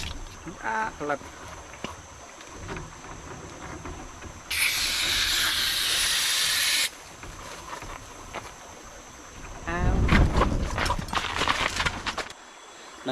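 A gas burner with a faulty valve head, used for cooking outdoors on a fishing trip, bursts into a loud, steady hiss lasting about two seconds, with voices and clatter before and after.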